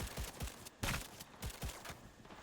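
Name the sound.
gunfire in the video game Cyberpunk 2077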